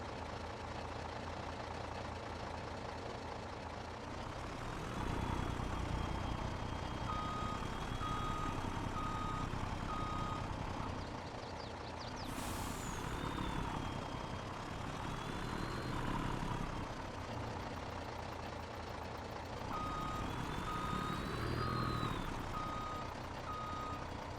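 A truck backing up a trailer in Farming Simulator 22, its engine droning steadily while a reversing beeper repeats at intervals throughout, fairly quiet and continuous.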